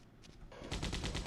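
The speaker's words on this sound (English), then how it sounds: "Machine gun." Machine gun fire in the video game Codename Eagle, starting after a quieter lead-in as a loud, rapid burst of repeated shots with a steady rhythm, close and dominant.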